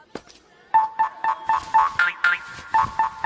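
A mobile phone ringtone plays as a repeating series of short bright electronic tones in a quick steady rhythm, loud and close.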